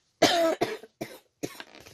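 A few sharp coughs in quick succession, close and fairly loud, with short pauses between bursts and no talking.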